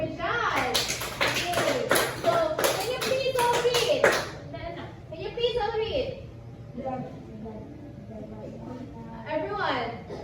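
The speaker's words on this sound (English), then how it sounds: "Let's all clap our hands for John." Elementary students clap their hands in a classroom, a lively round of sharp claps lasting about four seconds, followed by quieter scattered sounds and children's voices talking.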